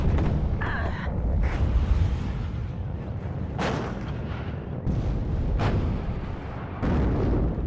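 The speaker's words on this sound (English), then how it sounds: "He's giving me support here with the bombing run" Bombing-run explosions in WARNO, a Cold War real-time strategy game, land as a series of sharp, heavy blasts spaced a second or two apart, each with a rumbling tail.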